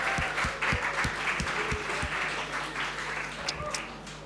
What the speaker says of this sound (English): Can we have some applause for him?